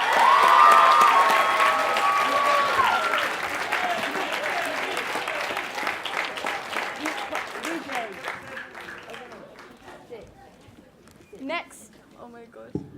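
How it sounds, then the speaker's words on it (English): A crowd at a community volunteer awards evening applauds and cheers, the clapping strong at first and then gradually thinning to scattered claps, with voices heard over it. "I applaud you all"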